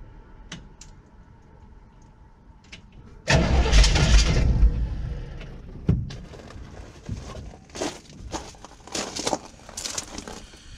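A 1971 Chevy truck that has sat unused for 10 years cranks and fires up with a loud burst, then settles into a rough, uneven idle with sharp clanks and pops, heard close with no talking.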